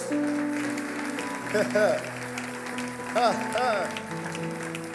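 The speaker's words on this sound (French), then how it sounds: "Acclamons le Seigneur" During a church sermon, a congregation claps and acclaims, applause running under loud voices with excited shouts and cries rising at intervals.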